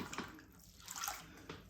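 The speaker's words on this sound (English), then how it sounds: "So get a little bit of water and just tidy it up a bit" Water splashing and swishing quietly while a thrown stoneware clay bowl is tidied by hand, soft wet strokes in short bursts.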